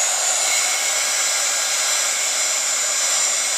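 A heat tool blows hot air steadily over a patinated brass stamping, a constant loud whooshing hiss with a high whine that never changes, with no talking.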